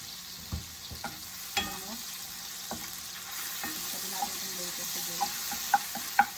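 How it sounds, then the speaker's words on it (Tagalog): Bacon and garlic frying in a pan for ginisang gulay, a quiet, steady sizzle broken by intermittent clicks and taps of a utensil, growing slightly louder toward the end. "habang pinuprito natin yung bacon na napaluto na"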